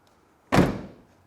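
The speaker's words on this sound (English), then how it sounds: "Doors shut, no problem." A single solid thunk of a 2000 Porsche 911 Carrera Cabriolet (996) door shutting, sharp at first and then decaying quickly into quiet.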